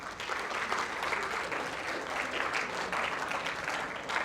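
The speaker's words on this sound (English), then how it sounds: "Give her a round of applause." An audience at a lecture session claps steadily, an even wash of applause from a seated crowd, fairly distant and uniform with no talk over it.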